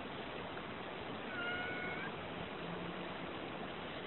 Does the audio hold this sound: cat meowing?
yes